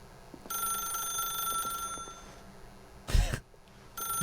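Telephone ringing in The Stanley Parable video game: a steady electronic ring with a sustained tone runs through most of the stretch, broken by a brief loud burst of noise near the end, with no talking.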